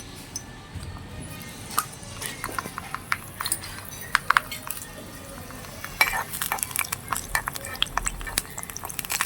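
Miniature luchi, small puffed Bengali flatbreads, frying in oil for a toy-sized luchi and alur dom meal, giving a steady soft crackle with scattered clinks of utensils throughout, close and moderately quiet with no talk.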